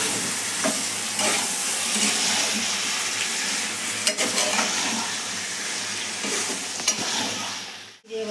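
Meat with Kashmiri chili sizzles steadily in a hot pan while being stirred, scraping strokes recurring over a continuous loud frying hiss, with a brief quiet gap near the end.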